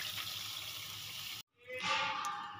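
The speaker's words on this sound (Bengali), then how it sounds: "এই বাটির মাপ করে আমি দিয়ে দেব 3 বাটি জল।" Tap water runs steadily into a bowl of sugar for syrup, a continuous splashing rush that breaks off briefly and then resumes, close and fairly loud.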